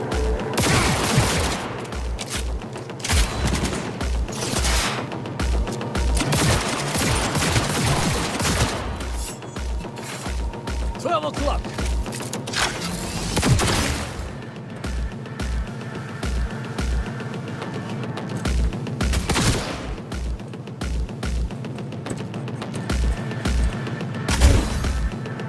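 Sustained gunfight in the video game Cyberpunk 2077, with rapid bursts of automatic fire and repeated shots going off steadily for the whole stretch, loud and continuous with no speech.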